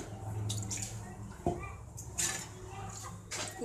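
Ragi flour mixed with water pours into a cooking pot, a wet splashing and trickling running through the clip with a brief sharp knock midway.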